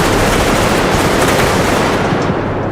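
Compact SG9X gun firing in the video game Bodycam, a loud, dense, continuous burst of automatic fire that fills the whole stretch without pause, with no voices.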